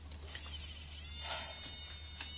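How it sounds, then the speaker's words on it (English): A small electric sweater shaver buzzes steadily and fairly quietly, its thin motor whine holding at an even pitch for a couple of seconds without speech. "Try the new sweater shaver."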